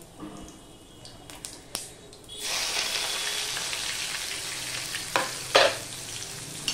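Chopped garlic drops into hot tempered oil while cooking a taro dish. After a quieter start with a few clicks, a loud, sustained sizzle erupts and continues, with stirring scrapes near the end.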